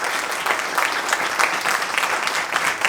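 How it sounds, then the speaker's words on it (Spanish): An audience at a conference on leadership lessons from Judaism applauds a rabbi after his lecture, with loud, continuous clapping that holds steady for several seconds. "muchas gracias al Rabino Tobal, un aplauso."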